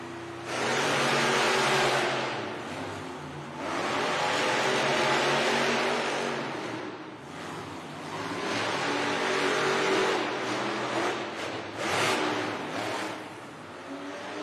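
A Monster Jam monster truck engine roars and revs in an indoor arena event, loud sustained waves of acceleration with brief dips between bursts, no talk over it.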